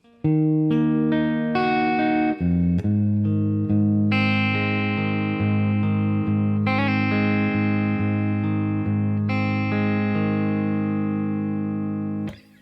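Effects-laden electric guitar plays through the fifth line of tab for a song, a steady sequence of ringing chords and single notes over about twelve seconds, close and unaccompanied, ending abruptly.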